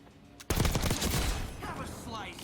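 Sustained GPMG machine gun fire in Black Ops 6, a rapid dense burst of loud shots that starts abruptly and continues to the end with ringing tails.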